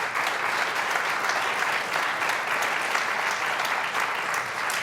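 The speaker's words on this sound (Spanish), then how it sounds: "denle fuerte aplauso al Señor" Church congregation applauding, a steady dense clapping that fills the room at even strength throughout with no break.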